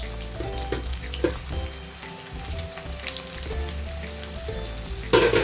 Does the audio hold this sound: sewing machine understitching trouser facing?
no